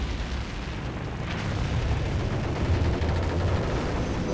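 Heavy, continuous booming rumble of warship cannon fire and explosions as the cruiser USS Chicago goes down, loud and dense throughout with no pauses or voices.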